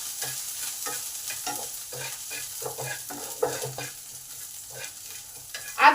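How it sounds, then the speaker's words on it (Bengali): Ginger fries with asafoetida in a pan, making a quiet sizzle broken by repeated scraping stirs of a spatula, with one sharper scrape near the end. "আদাটাকে 1 মিনিট ভেজে নেব, যাতে আদার কাঁচা গন্ধটা চলে যায়।"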